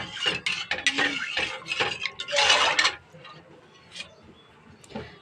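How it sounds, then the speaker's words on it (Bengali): Vegetables with turmeric and salt stirred in a metal pan, a series of clinking and scraping strokes close up, busy at first and then thinning to a few faint taps. "এখন ভালো করে একটু ঘেঁটে দেব।"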